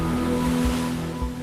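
Heavy storm surf surging at sea during Storm George, with a large ship rocking on the waves; a steady loud roar of wind-driven water with low swells rising and falling, no voices.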